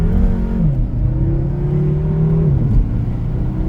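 A 4.4-litre F06 BMW M6 with hi-flow turbo downpipes accelerates loudly from a standstill, revving up steadily in first gear with a strong droning hum before the pitch drops as it shifts.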